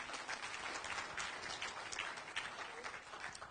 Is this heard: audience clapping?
yes